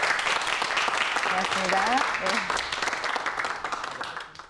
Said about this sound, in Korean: 좋은 강의해 주신 우리 대표님께 여러분 큰 박수 부탁드리겠습니다